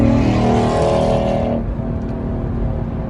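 A Ford Mustang passes close by, a loud broadband engine and tyre roar that drops sharply in brightness about halfway through as it goes away, leaving a steady lower rumble.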